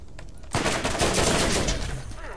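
Rapid submachine gun fire in the Borderlands shooter game, a loud continuous burst of close shots that starts abruptly and runs for about two seconds, with a faint voice underneath.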